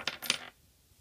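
A few small coins drop and clink onto a hard surface, two quick bright metallic hits in the first half second, then quiet.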